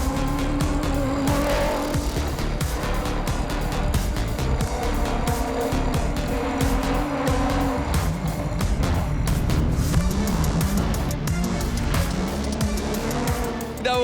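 Rally-raid cars battle through mud at the Rally-Raid Portugal event, with engines roaring, revving and passing amid spattering, skidding noise, loud and continuous with faint voices mixed in.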